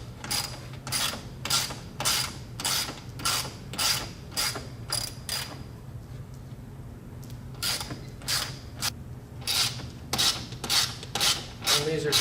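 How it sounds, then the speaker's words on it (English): Tools working loose the bolts on a 2017-or-later Ford F-150 Raptor grille, giving a steady series of close, sharp ratcheting clicks in quick repeated bursts, with a brief pause partway through before the clicking resumes. "we need to take all these bolts out"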